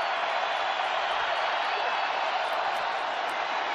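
A stadium crowd at a Denver Broncos vs Houston Texans NFL game makes a steady, broad wash of roaring noise with no breaks, fairly loud and continuous from start to finish.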